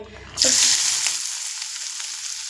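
Chopped onion, garlic and ginger hit hot oil in a pan and burst into a loud sizzle that slowly fades to a steady hiss while being stirred.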